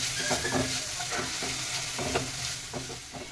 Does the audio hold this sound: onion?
yes